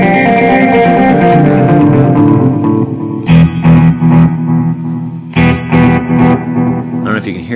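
Guitar running through two Tonal Recall delay pedals at once, one set to dotted eighths and one to quarter notes. A thick echoing wash gives way to sparse, plucked notes with overlapping repeats, close and clear with no talking.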